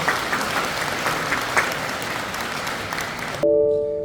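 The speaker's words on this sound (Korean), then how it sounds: "성공적인 재건축 사업 응원하는 차원에서 큰 박수 한번 부탁드리고 내려가도록 하겠습니다." An audience at a residents' briefing on an apartment reconstruction project applauds, a steady close round of clapping that cuts off abruptly near the end as a tone sounds.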